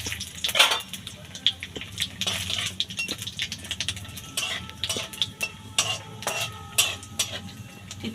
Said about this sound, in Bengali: তেলের মধ্যে 1 চামচ 5 ফোড়ন দেব। আর একটা শুকনো লঙ্কা।